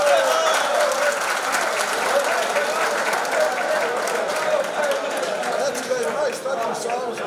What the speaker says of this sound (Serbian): Molim vas, ja veliki aplauz da nagradimo Đurkić Vekima